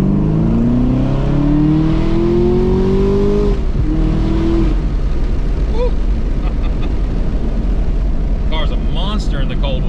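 A 2020 Camaro ZL1 with its secondary catalytic converters deleted revs and accelerates loudly, its engine note climbing in rising sweeps before dropping into a rumbling idle with crackles, close by and with voices in the background.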